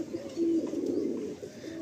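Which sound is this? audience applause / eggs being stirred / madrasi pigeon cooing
madrasi pigeon cooing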